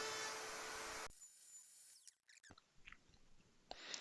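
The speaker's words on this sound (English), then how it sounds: "I'm using what I believe to be an 1/8 inch roundover bit for the outside rim of the drum" A router fitted with a 1/8 inch roundover bit rounds the rim of a wooden snare drum shell. A loud, high whine runs for about a second and then cuts out. A few brief, faint taps and rubs follow, then a short final burst.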